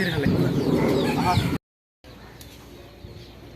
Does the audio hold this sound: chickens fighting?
yes